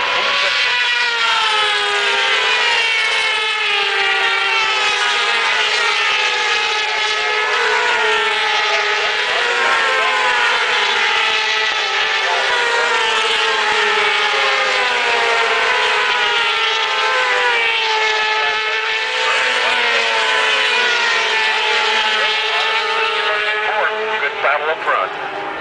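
A Kawasaki racing motorcycle on Pirelli tyres at a 2007 Barber road race gives off a loud, continuous wailing engine note that rises and falls, mixed with a commentator's voice.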